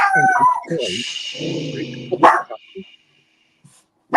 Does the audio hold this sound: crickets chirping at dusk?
no